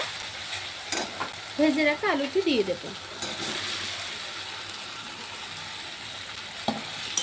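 Fried potatoes tossed into sizzling masala in a pan and stirred: a constant hiss of frying oil with a few louder knocks and scrapes of the spoon, and a voice briefly speaking over it.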